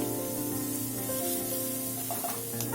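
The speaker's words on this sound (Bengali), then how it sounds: "একটু বাদামি করে ভেজে নিতে হবে।" Chopped onions fry in hot oil in a wok for paneer bhurji, giving a steady, close, even sizzle with no breaks and no voices.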